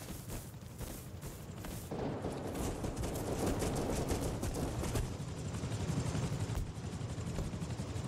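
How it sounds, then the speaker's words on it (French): Attack helicopter in the video game Rust closing in, a steady loud rotor drone that swells and thickens from about two seconds onward, with sharp crackling bursts layered over the continuous roar. "Viens là l'hélico, viens là."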